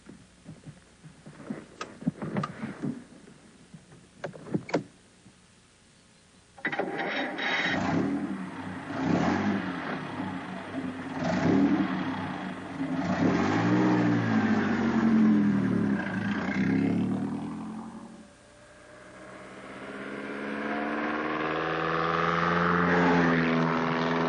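A vintage Bentley sports racing car, a historic Le Mans-type racer, is heard: a few sharp mechanical clicks, then a loud engine bursts into life and revs, rising and falling, easing off and building again, with no voices.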